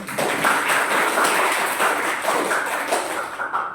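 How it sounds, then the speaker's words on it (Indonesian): Classroom applause from a group of students, a steady, dense patter of clapping that holds at even loudness for several seconds with no talk over it. "Tepuk tangan untuk kalian semuanya."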